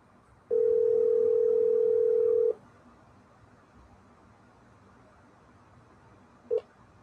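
A steady telephone tone rings once for about two seconds while a call waits for pickup, followed by a quiet open line and one brief faint click near the end.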